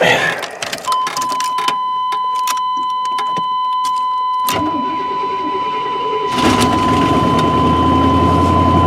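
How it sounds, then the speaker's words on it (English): Jingling keys and clicks inside a Chevy truck, then its poorly running engine, fitted with headers, cranks, catches with a roar and settles into a rough, loud idle. "We'll fire up the Chevy truck here. This one's kind of running like crap, but should still start."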